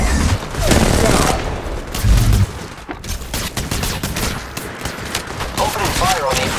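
Rapid bursts of automatic gunfire from an Apex Legends Mobile match crackle loudly and continuously, with dense repeated shots and a heavier thump partway through, while a voice speaks briefly under the shooting.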